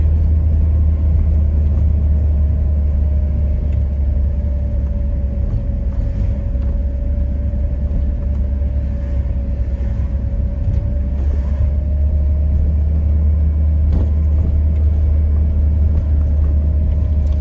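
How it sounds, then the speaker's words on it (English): Camper van descending a steep hill in second gear with the brake applied, giving a loud, steady engine rumble and a constant whining tone that runs unbroken throughout. "Keeping this in second gear and just my foot on the brake."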